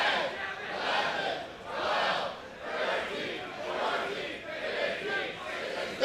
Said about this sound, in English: You hear the crowd here.